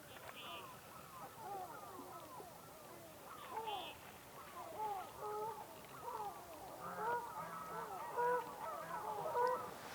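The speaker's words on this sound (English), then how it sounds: "So this is real nice, a couple of whooper swans" A couple of whooper swans call close by, repeated honking, bugle-like notes in overlapping bursts that grow denser and louder toward the end, over quiet outdoor background.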